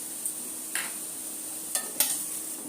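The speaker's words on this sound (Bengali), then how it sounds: "একটু ভালো করে ভেজে নিচ্ছি।" Potato and pointed gourd curry frying in a pan, a low steady sizzle broken by a few distinct spoon scrapes and stirring strokes spaced through the clip.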